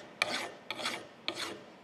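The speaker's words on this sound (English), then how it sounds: "I think I'm going to start by just taking a file" A hand file rasps across a cast part of a steam stoker engine in three separate strokes, each rough scraping pass starting with a sharp bite and then fading, close up with no talking.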